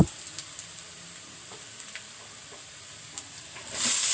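Cauliflower greens fry in a pan with a faint, even hiss and a few light ticks and pops. The sound swells louder in the last moment.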